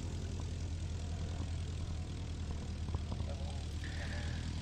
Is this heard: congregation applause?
no